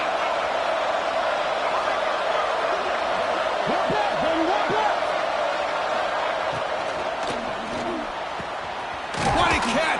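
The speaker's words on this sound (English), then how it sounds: "Listen to the crowd energy here in the early going." A stadium crowd in a college football video game roars steadily throughout, a dense and constant wash of cheering that swells briefly louder near the end.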